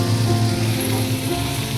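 Capsicum drops into a hot oiled pan while making cheese pizza, giving a loud, steady, close sizzle and crackle of frying that holds evenly without pause.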